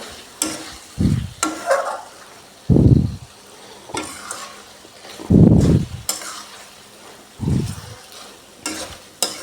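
Chicken liver being stir-fried and stirred in a pan, with bursts of sizzling and scraping strokes that come and go every second or two, close and fairly loud, no talking.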